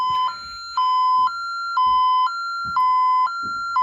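An electronic security alarm siren alternates between two pitched tones in a steady, repeating cycle, loud and close, with no voices.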